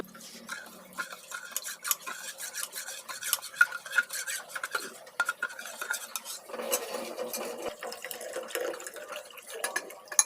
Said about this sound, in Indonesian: Jangan lupa terus diaduk-aduk supaya nggak gosong.